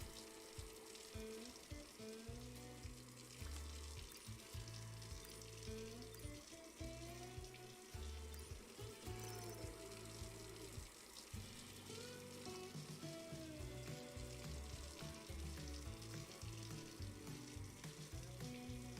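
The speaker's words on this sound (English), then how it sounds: "Just got to get this water filled up to 21." Water runs steadily from a tap into a container being filled for home beer brewing, a continuous splashing gush lasting the whole stretch, quiet and without talk.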